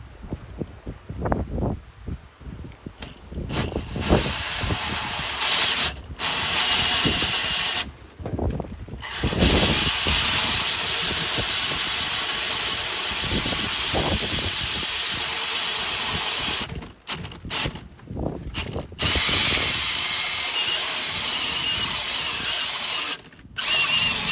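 A hole saw grinds loudly through fiber cement board backed by half-inch plywood during a mini split heat pump installation, running in long sustained bursts with brief pauses between them.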